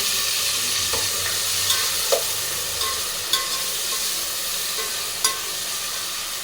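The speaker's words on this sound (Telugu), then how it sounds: "ఇప్పుడు దీంట్లోకి ఒక 2 పెద్ద సైజు టమాటాలు కట్ చేసి వేసుకుంటున్నాను నేను." Two large chopped tomatoes frying in a pan for egg biryani, a steady close sizzle with occasional sharp spoon taps and stirring knocks throughout, no voices.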